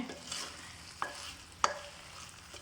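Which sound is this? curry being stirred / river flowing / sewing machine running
curry being stirred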